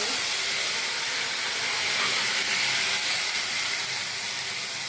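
Tomato pulp hits a hot pan while south Indian tomato rice cooks, giving a steady, fairly loud sizzle and hiss that holds without a break for the whole stretch, with no voices.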